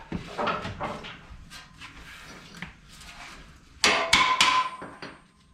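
Metal punch struck with a hammer to drive bolts out of a truck frame during shade-tree repair work, several sharp clanks in uneven bursts, the loudest cluster near the end, with rattling between strikes.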